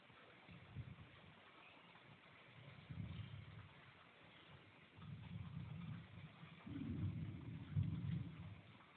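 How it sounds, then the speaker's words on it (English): Thunder rumbles in several low, rolling bursts through early morning rain, growing louder toward the end, with no talking. "I'm pretty sure you just heard the thunder"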